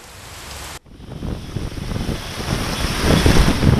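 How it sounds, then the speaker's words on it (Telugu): Heavy rain pouring with strong gusting wind in a city street, a loud dense roar that cuts out briefly and then builds steadily stronger. "జోరు వాన, హోరు గాలితో ఎల్బీ నగర్ తడిసి ముద్దైపోయింది."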